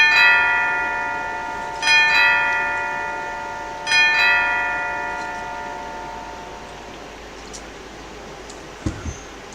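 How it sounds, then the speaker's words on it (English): A school bell in the video game Symphonic Rain chimes three times at about two-second intervals, each bright ring fading slowly into silence, followed by a couple of soft thuds near the end and no speech. "The bell rung out through the school"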